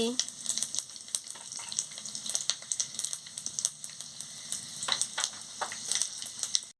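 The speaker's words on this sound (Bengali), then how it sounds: "এবারে কড়াটা গরম হয়ে গেছে আমি তেলটা দিয়ে দিচ্ছি এবারে শুকনো লঙ্কা আর পাঁচফোড়নটা দিয়ে দিচ্ছি" Dry red chillies and five-spice seeds spit and crackle in hot oil in a heated pan, a dense, continuous stream of sharp sizzling pops heard close up and without any talk.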